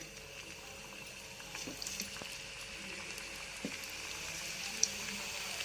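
Karjikayi sweet dumplings fry in hot oil with a soft, steady bubbling sizzle and a few faint clicks and pops, fairly quiet and close.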